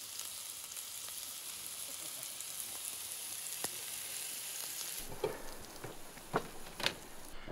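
Asparagus and chili sizzle on a camp stove outdoors with a steady, soft frying hiss. A few louder stirring clatters come near the end.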